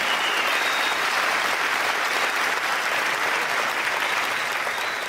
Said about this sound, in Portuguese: Eu queria pedir uma salva de palmas pro Silvio Santos